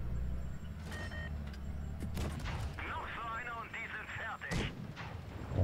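Heavy tank cannon blasts boom out a few times over rumbling engine noise in World of Tanks Blitz, while a person talks over the game sounds.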